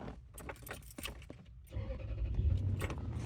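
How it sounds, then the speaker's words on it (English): A car engine turns over and settles into a low, steady idle that grows louder, following a brief jangle of keys at the start; no one talks. "I'm going to start the car."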